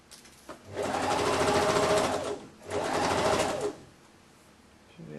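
A sewing machine stitches a shirt hem in two sustained loud runs, the first about two seconds long and the second shorter after a brief pause, with quiet handling between them.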